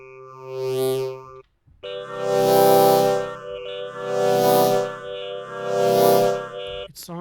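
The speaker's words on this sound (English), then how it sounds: "It sounds like a vocal effect." A harmonic synthesizer tone with swelling, vowel-like sweeps that rise and fall in three pulses, sounding like a processed vocal effect, alone and loud.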